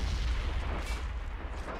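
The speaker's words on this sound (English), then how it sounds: "Mortars are nicely going for it." Mortar fire in Men of War: Assault Squad 2 rumbles through a busy World War II battle, with steady low booms and distant artillery thuds filling the short stretch, and no talking.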